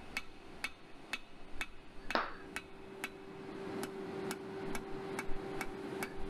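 Blacksmith hammer blows shaping a hot workpiece into a chisel at a forge, struck in a steady, evenly spaced rhythm of sharp metallic taps with a constant hum underneath and one louder clang partway through.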